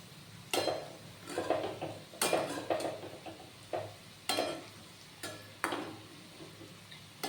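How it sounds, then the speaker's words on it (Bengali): Fried snacks are strained and lifted out of hot oil with a metal strainer, giving sharp clanks and scrapes against the pan at irregular intervals over a soft, continuous sizzle. "এটা ছেঁকে ছেঁকে আমি নামিয়ে নেব অনেকগুলি ভাজা হয়ে গেছে"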